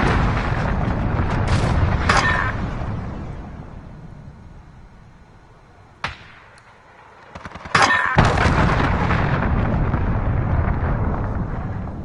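Heavy cruise missile strike explosions in Call of Duty Warzone, set in a European Kosovo map, roll in as loud sustained booming that fades to near silence, then a sharp crack and renewed thunderous blasts close by.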